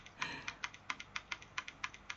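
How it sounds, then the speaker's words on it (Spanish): Typing on a computer keyboard, a steady run of crisp, close key clicks at an even rhythm with no voices. "Ese teclado."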